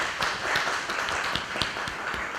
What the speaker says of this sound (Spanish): Vamos a darle un fuerte aplauso a Fiorella.